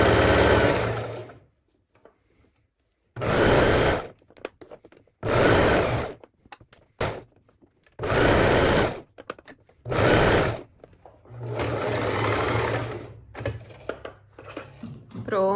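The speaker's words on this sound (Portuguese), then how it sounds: "vou passar uma reta aqui, tá? Com a largura do calcador" Sewing machine running a straight stitch along pajama pants, loud close bursts of fast mechanical whirring stopping and starting about five times, with someone talking between runs.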